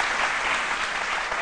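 Studio audience applause on a French midday TV talk show, a dense, steady wash of many hands clapping at even loudness from start to finish.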